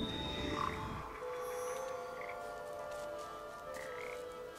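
Frogs croak steadily throughout in the Papo & Yo video game, a dense chorus of rasping calls layered over a continuous ambient bed, with a louder burst near the start.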